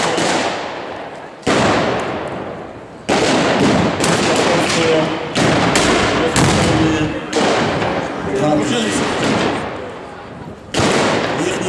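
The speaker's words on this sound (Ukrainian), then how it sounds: "підрозділ озброєний артилерійською гарматою, власне обстріл наступаючого ворога" Artillery cannon fire at a battle reenactment marking the anniversary of the West Ukrainian People's Republic: a series of loud, booming blasts and thuds several seconds apart, with rumbling echoes and crowd noise between them.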